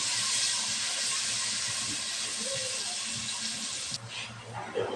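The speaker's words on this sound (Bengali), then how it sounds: "পেঁয়াজটা ভালোভাবে ভেজে নেব।" Chopped onion and green chilli fry in oil in a pan after fish, a steady strong hissing sizzle that drops off abruptly near the end, with faint kitchen knocks.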